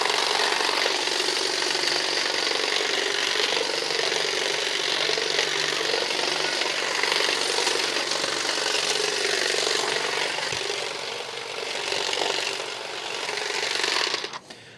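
A Saker 20V cordless hedge trimmer cuts a soft, non-woody shrub outdoors at close range, a harsh high-pitched buzzing whir running continuously that dips slightly near the end before cutting off.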